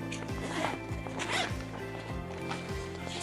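Zippers opened and closed repeatedly on a 35-liter foldable backpack, giving several quick rasping pulls in a steady rhythm, close and fairly loud against faint background music.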